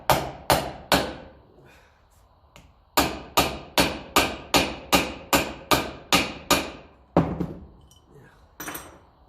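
A hammer drives a drift home on a Massey Ferguson 35 tractor: about seventeen sharp, ringing metallic blows, close and loud, in an even, steady rhythm with a few short pauses between runs.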